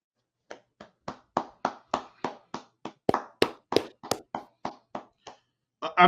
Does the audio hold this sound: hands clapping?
yes